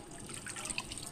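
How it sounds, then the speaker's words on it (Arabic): Water is poured from close by into a starch and yogurt mixture, a soft, steady trickling splash that lasts about a second. "نزل المي بقلبها"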